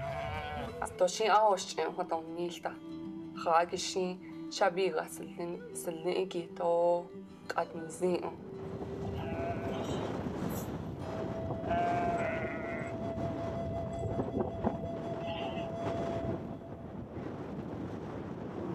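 Sheep bleating repeatedly in a herd being raised from two family flocks, the calls rising and falling over the first eight seconds, then fading under steady wind noise and someone talking.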